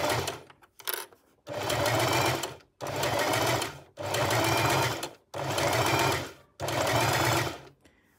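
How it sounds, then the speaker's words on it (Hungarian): A sewing machine stitches a small purse in five steady bursts of rapid mechanical whirring, each a second or so long, separated by short pauses, with faint clicks before the first run; close and clear with no talking. "És varrok tovább."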